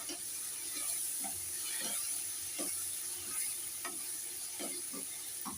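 Rohu fish curry with turmeric being stirred in a frying pan, a steady sizzle and hiss with repeated scraping strokes of the spoon close by, no talking.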